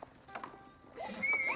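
Horseman cavalry in Age of Empires 4: a short run of clip-clopping hooves, then a bright, wavering whinny near the end, fairly close and moderately loud, with no talking.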